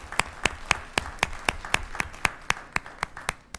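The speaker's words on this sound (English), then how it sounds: "So I would like to give just a hand clap," A single person claps steadily for the police department at a city council meeting, about four crisp claps per second, close and distinct, rather than a full crowd's applause.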